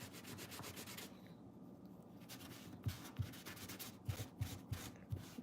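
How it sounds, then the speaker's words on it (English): A makeup powder puff rubs against a wet wipe in soft, close scrubbing strokes, faint and hushed, with a few light taps near the end. "rub it on a wet wipe and you should be done"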